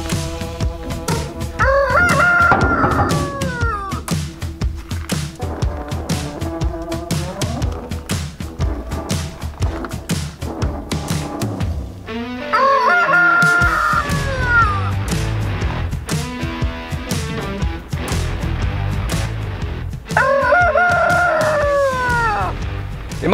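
Chickens cluck and a rooster crows several times in a backyard where ducks are being smoked beside the coop, with thumps and taps scattered between the loud, repeated calls.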